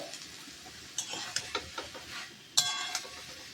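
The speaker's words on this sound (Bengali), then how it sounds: "সজনে ডাঁটাটা দিয়ে বেশ ভালো করে নাড়াচাড়া করে" Drumsticks being stirred into spice masala in a pan, with a soft background sizzle and several distinct metallic scrapes and taps of a spoon against the pan.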